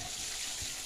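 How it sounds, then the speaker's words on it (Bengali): Water is poured into a pan of spice paste while a country-style fish curry cooks. A steady, soft splashing stream runs through the whole moment with no voices. "এরপর জল দিয়ে দেবো"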